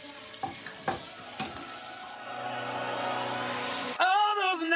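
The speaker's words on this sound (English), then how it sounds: "So I'm starting to fry up all these veggies for the stuff" Vegetables and broccoli frying in a pan, a few clattering stirs and drops into the pan, then a steady close sizzle that builds and holds, ending in a louder burst.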